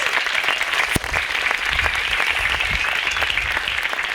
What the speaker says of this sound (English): Let's give another round of applause to all our award winners